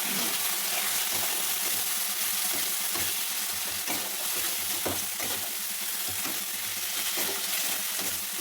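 Spices, slit green chillies and chopped tomato sautéing in a pan for an egg and potato curry, with a dense, continuous sizzle and the scrape of stirring throughout, no voices.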